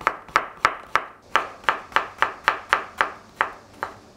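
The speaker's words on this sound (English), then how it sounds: "We'll cut it into very thin julienne." A knife chops zucchini into very thin julienne on a board, about fourteen crisp, sharp strokes at a steady, slightly uneven pace, close and clear with no talking.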